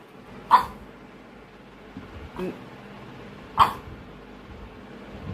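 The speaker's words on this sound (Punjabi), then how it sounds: "ਉਹ ਦੇਖੋ ਭੌਂਕਦੀ ਆ ਕੁਝ ਕਹਿੰਦੀ ਆ ਮੈਨੂੰ" A dog gives two sharp, separate barks a few seconds apart, close and fairly loud, with a quieter soft sound between them in an otherwise calm indoor setting.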